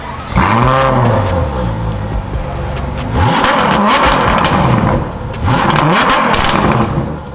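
A Ferrari engine revs hard several times up close, each loud rising surge of vroom dropping back before the next blip, three main bursts over a few seconds.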